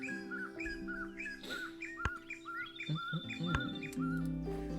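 Recorded call of a white-crested laughing thrush played in the board game Wingspan, a series of bright repeated chirps and rising whistled notes with occasional squawks, clear and fairly close over a faint background.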